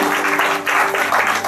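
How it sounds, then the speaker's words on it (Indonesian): Loud, lively applause fills a church congregation for Jesus during a healing testimony service, steady dense clapping throughout with a sustained organ-like tone beneath. "tepuk tangan yang meriah buat Tuhan Yesus."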